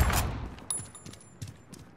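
Gunfire in the Call of Duty: Modern Warfare game: a loud opening burst followed by a few sharper individual shots spaced irregularly over the next couple of seconds, with no talking.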